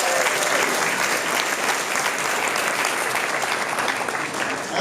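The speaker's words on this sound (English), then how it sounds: "Give them a big round of applause." Dense, steady applause from an audience fills a White House Hanukkah reception, sustained and loud throughout.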